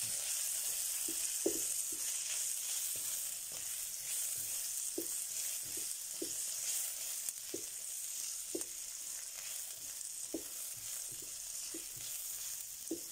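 Onions frying in a pan for homemade cheese and tomato soup, a steady close sizzle with soft stirring scrapes popping out at irregular moments, no voices.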